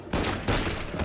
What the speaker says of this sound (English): You dickheads shooting your guns.